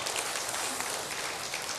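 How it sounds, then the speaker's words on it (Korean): Church congregation applauding at a Sunday Christmas Eve service, a steady dense patter of many hands clapping that fills the whole stretch evenly, moderately loud and close, with no voices over it. "나를 존경하는 마음으로 나를 향해 박수를 좀 치겠습니다"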